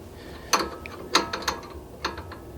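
A 12 mm wrench ratchets against a car's axial ball joint during unscrewing, giving a few sharp metallic clicks in separate short bursts.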